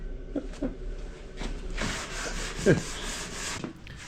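Teak and holly boat sole being hand sanded to 180 grit, a steady close abrasive rubbing with repeated back-and-forth strokes and a brief knock partway through, no talking.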